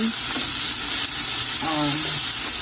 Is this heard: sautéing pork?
yes